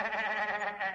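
A cartoon character's voice imitates a sheep, giving one short wavering bleat that is loud and close, alone without other sounds.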